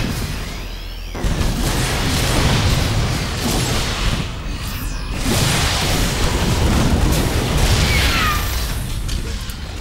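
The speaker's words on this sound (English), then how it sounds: "And this drop is going to be destroyed." Units are destroyed in StarCraft II amid a stream of overlapping booms, bursts and mechanical clatter from a battle, loud and continuous with brief swells.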